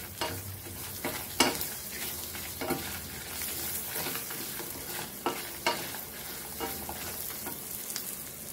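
Onion and mint leaves fry in a pan with a steady, crackling sizzle, punctuated by several sharp stirring scrapes and clanks at irregular intervals; no one speaks.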